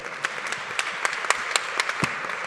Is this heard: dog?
no